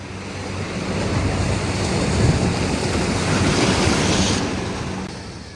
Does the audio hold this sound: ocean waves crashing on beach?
yes